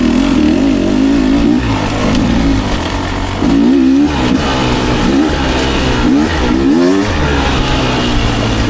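A Beta 250 Race Edition dirt bike engine revs loudly and close, its pitch rising and falling as the rider opens and closes the throttle through the power band, continuous and without pause.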